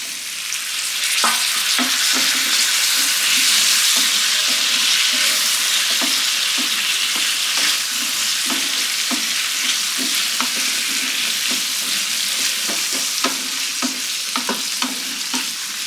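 Potato pieces frying and being stirred with fenugreek leaves in a pan for aloo methi fry, a steady loud sizzle broken by regular scraping strokes of the spoon throughout.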